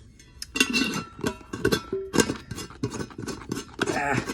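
A handmade cookie jar of repurposed foam and air-dried clay clinks, its lid tapping and rattling in a run of light, close, irregular ceramic-like knocks at a busy Renaissance festival booth.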